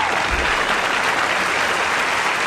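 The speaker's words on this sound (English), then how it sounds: "Did they start clapping for you?" An audience applauds a child's singing, a dense, steady wash of clapping filling the whole stretch at an even, fairly loud level with no voices over it.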